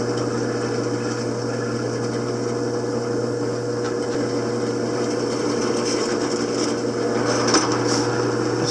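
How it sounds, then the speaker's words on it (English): A drill fitted with a 3/16 inch bit bores through wood to make a hole for a screw on a homemade mic boom, giving a steady, close, continuous motor whine with grinding, no voices. "drill the rest of the way out with a 3/16 inch bit"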